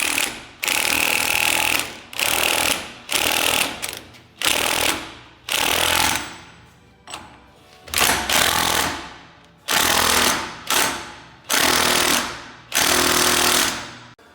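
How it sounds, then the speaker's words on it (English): Impact gun hammering a nut home on a Jeep Gladiator axle yoke during a lift install, loud close rattling bursts of one to two seconds each, about ten in a row with brief gaps between. "Mike will be driving that home with the impact gun"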